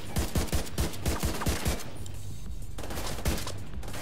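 Rapid bursts of semi-automatic gunfire in the Division 2 video game crack out one after another, loud and close, then a short pause before another few shots.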